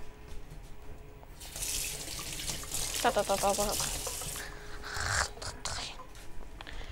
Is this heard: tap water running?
yes